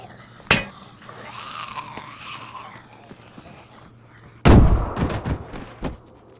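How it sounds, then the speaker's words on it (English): A grenade goes off in the survival game DayZ, a sudden loud, booming blast after a quieter stretch with a brief earlier crack, followed by a rumbling, crackling tail. "what you can do is throw a grenade at him"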